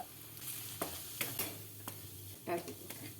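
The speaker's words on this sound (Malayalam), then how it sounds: "ജിഞ്ചർ ഗാർലിക് പേസ്റ്റും ചെറുതായി അരിഞ്ഞ സവാളയും തക്കാളിയും ഇട്ട് നന്നായി വഴറ്റുക." Ginger garlic paste, chopped onion and tomato sauté in a pan for an okra masala, giving a soft, faint sizzle with intermittent scraping and stirring clatter.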